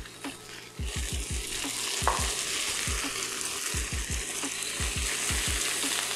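Butter melting into a hot pan beside seared salmon fillets gives a steady, close sizzle, broken by repeated soft low thumps in quick bursts as the fish is handled, with no talking.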